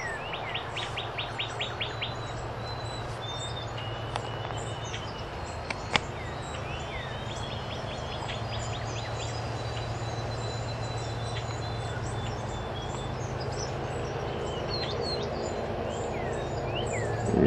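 Wild birds chirp outdoors with repeated high, quick calls and trills. The chirping continues over a steady low background hum, moderately distant and fairly faint.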